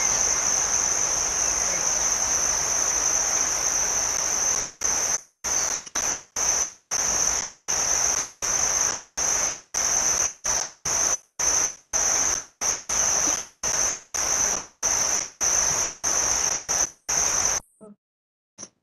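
A cricket or grasshopper chirp effect in an animated storybook, heard as a steady high trill that then breaks into a fast run of regular, evenly spaced pulses before stopping abruptly.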